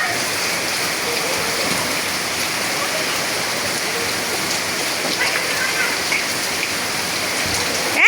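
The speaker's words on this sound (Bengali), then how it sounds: "অত বৃষ্টি যে কি বলবো" Heavy rain pours down in a dense, steady roar of splashing on surfaces, loud and continuous, with a voice faintly present beneath it.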